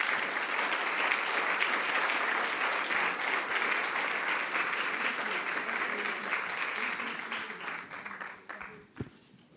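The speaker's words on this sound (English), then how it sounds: "A round of applause for them to join me on stage." An audience at an international education forum applauds as panelists join the stage, dense steady clapping that fills the room and then thins and fades toward the end.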